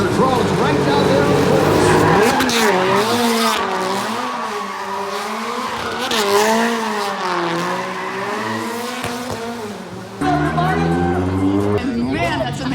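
Red Bull RB7 Formula 1 car with a 750-horsepower engine at a downtown Minneapolis street show run, its loud engine note rising and falling through revs as the tires squeal, with a sharp shift near the end and an announcer talking over it.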